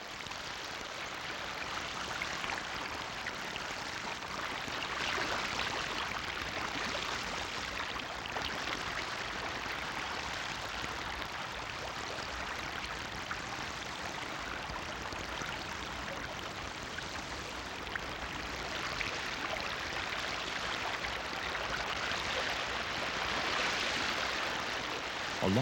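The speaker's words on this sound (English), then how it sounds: "Then the weight of water crashes through, and the creek surges in an endless cycle of buildup and collapse." Creek water surges over sand in a continuous soft rush and trickle, faint and steady, heard at a distance with no voices.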